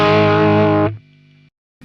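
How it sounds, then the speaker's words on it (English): A distorted electric guitar runs through a Plexi amp model into a mic'd 412 greenback cab. A thick driven chord sustains loudly for about a second, then a short thinner tail cuts off before another brief hit begins. "that's the sound of a Plexi amp mic'd up"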